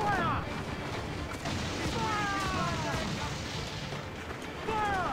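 Heavy shot fired from ship cannons in Assassin's Creed Black Flag, with rumbling booms spread across a dense battle din of wind and sea, while a voice talks over the action.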